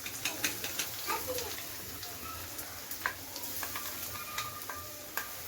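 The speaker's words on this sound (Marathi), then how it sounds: "वाटण सुद्धा आपल्याला छान असं परतून घ्यायचं" Ground masala paste sautéing with reddened onion in a pan, giving a soft, steady sizzle with faint scraping stir strokes and a few sharp clinks, quiet and close with no talking.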